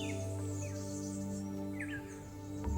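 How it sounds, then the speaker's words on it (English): Several birds chirp and whistle faintly over a steady low mechanical hum, with scattered short calls overlapping. "Isn't it amazing the amount of bird life here?"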